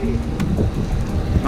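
Rain falling during a night bike ride in Finland, a continuous wash of drops and wind noise with low rumble throughout, no voices.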